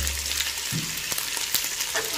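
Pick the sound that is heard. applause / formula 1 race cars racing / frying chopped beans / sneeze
frying chopped beans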